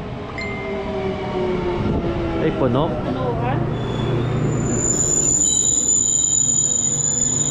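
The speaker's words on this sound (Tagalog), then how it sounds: "Ito yung sasakyan namin na tren." A rapid train in Japan slows toward a stop, its wheels squealing and braking tones gliding over a steady rumble, close and loud, with people talking briefly nearby.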